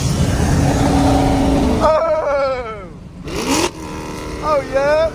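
A Chevrolet Camaro ZL1 on the road, its engine revving hard in rising and falling sweeps as it passes nearby, with people talking excitedly over the sound.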